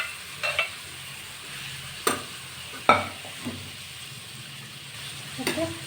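Cooked horse gram is stirred into fried onion and green chilli in a pan, a faint low sizzle broken by several sharp spoon scrapes and clacks against the pan.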